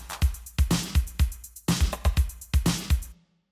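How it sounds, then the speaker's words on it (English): A retro-styled electronic drum beat plays alone, punchy kicks and snappy hits in a steady, repeating pattern with bright noisy transients, moderately loud, then cutting off abruptly at the end. "So it starts with drums."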